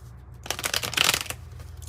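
A deck of oracle cards is shuffled once in a quick riffle of soft, rapid flutters lasting about a second, close and fairly quiet, with no talking.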